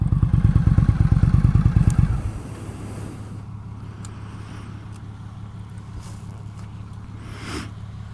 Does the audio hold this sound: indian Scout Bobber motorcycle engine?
yes